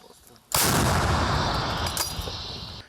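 A single loud blast from a 105-mm artillery gun firing toward trenches erupts after a brief quiet moment, followed by a long rumbling echo that slowly fades.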